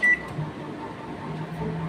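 A microwave oven hums steadily after a short beep from the start button, cooking bitter gourd fry with little oil; the even drone continues throughout with no talking.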